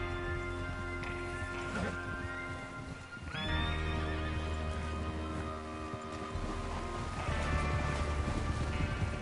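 Horses neighing and hooves clip-clopping in the video game Red Dead Redemption 2, several whinnies rising over a steady low rumble and continuous hoof beats, fairly close.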